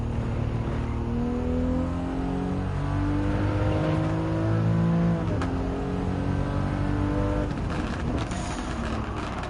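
Race car engines from the Gran Turismo 7 video game, a Toyota GR Supra RZ and a 2002 Honda NSX Type R, rev high and shift up through the gears in a steady loud drone that rises and falls continuously.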